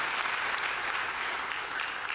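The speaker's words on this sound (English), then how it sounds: "Give God a hand clap of praise" A church congregation claps their hands in praise during a sermon, a brief, fairly quiet patter of many hands clapping together in a steady wash.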